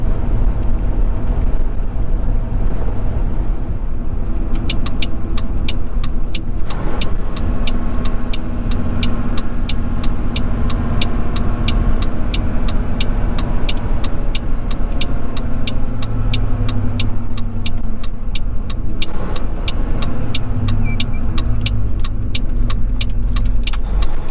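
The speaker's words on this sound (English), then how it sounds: "Rolling down the hill as we make our approach into Alice Springs." A road train truck rolls downhill on the approach into Alice Springs, a loud, steady engine and road drone recorded from inside the cab, with a rapid ticking running through the middle and no talking.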